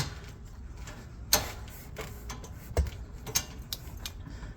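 A wrench works on the rear brake of a Maserati Levante, giving scattered metallic clicks and ticks at irregular intervals, a few sharper than the rest, close but fairly quiet.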